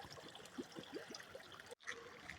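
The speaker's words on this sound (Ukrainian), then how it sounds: "Водичка шумить." Quiet, steady water trickling and splashing in a continuous babble into a small children's pool at a thermal spa complex in winter, heard from nearby with no voices.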